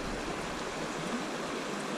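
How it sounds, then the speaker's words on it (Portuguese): Constant roar of river rapids in São José do Calçado, Brazil, a dense even wash of sound with no pauses and no voices. "Que não é bem uma cachoeira, né? É uma corredeira."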